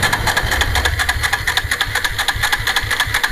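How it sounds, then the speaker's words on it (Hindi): Bajaj Pulsar motorcycle with a starting problem, its electric self-starter cranking the engine steadily with a rapid rattling churn that never catches, loud and close, no voices. "ऑन कीजिए और सेल्फ मारिए"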